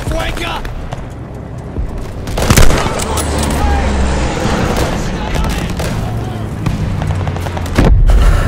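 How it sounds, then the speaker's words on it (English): Loud booming blasts and cracks of gunfire ring out in a Vanguard campaign battle, with a heavy explosion near the start and another sharp hit toward the end over rumbling war noise. "killed by an explosion."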